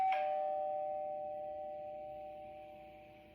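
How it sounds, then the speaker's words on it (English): A single doorbell chime rings out clearly, then fades away slowly in a quiet room. "As the doorbell rang"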